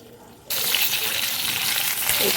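Water hits stuffed masala chillies frying in a pan, setting off a sudden loud rush of hissing sizzle that starts abruptly after a quiet moment and stays steady to the end.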